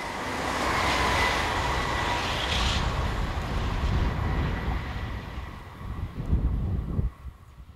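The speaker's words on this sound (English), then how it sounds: "This pair of Z27-500 units keep our photographer interested as they head east" A pair of Z27-500 electric multiple units rolls past heading east, a steady loud rumble of wheels and motors with a hiss, fading and dropping off near the end.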